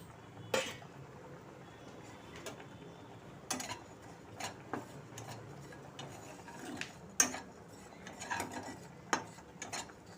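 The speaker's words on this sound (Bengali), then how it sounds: "এবার আমি কড়াইতে ওটসটাকে হালকা একটু" Oats being dry-roasted in a wok give sparse, irregular scraping and clinking ticks from a spatula against the pan, fairly quiet with pauses between strokes.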